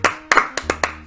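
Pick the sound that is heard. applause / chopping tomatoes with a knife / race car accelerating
applause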